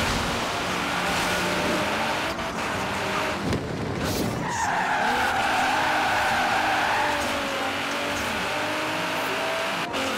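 Tires skid and squeal continuously as a car drifts in the racing game Forza Horizon 3, with a loud, sustained screech over engine roar and a brighter whine rising midway through.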